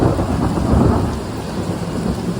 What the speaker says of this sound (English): It's not lightning, it's just thunder.